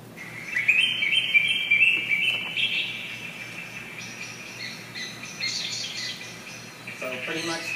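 Birds chirp and call over a steady bed of insect or cricket-like buzzing outdoors, moderately loud at first and then softer, with scattered tweets throughout.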